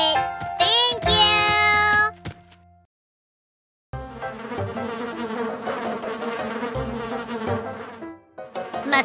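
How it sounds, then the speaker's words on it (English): Buzzing mosquitoes in a children's cartoon song, heard as a sustained insect-like drone woven into bright, loud music with a short silent gap before the music resumes. "Buzzing mosquito pilots"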